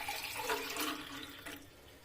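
Extra water is poured into a pot of raw rice, a soft continuous splashing and trickling stream lasting about two seconds, fairly quiet and close.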